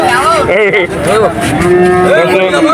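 At a cattle market, cows and calves moo loudly and close by in several overlapping, wavering calls over a dense background din.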